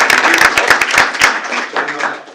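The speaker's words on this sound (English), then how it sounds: "so let's welcome her with a big round of applause." Audience at a school board meeting claps to welcome a speaker, brisk clapping with distinct hand claps that thins and fades out near the end.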